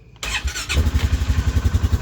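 The engine of a 2017 Polaris Sportsman 570SP ATV cranks and catches after a brief silence. It settles into a close, loud, steady idle with an even rhythmic pulse.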